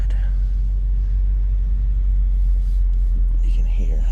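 New sticky tires on a 2019 Subaru WRX rolling over the road, a loud, steady low rumble of tire and cabin noise from inside the moving car, with a voice speaking briefly near the end.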